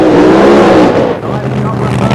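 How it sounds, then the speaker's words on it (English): A drag racing car doing burnouts at a 1990 Santa Pod drag race meeting, loud engine roar and tyre noise continuous throughout, with a commentator talking over it. "nice couple of burnouts now from John Spuffard."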